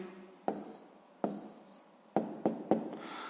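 Pen strokes scratch across paper as a math answer is written by hand: five short, close, crisp bursts with pauses between, no talking.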